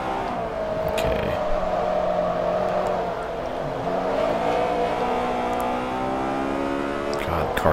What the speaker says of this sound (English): the car gets so freaking upset when I downshift a second